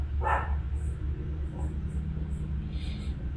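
A dog barks a few times in the background while a man gives a Google Cloud computing demo, the short yaps faint and scattered over low rumbling room noise.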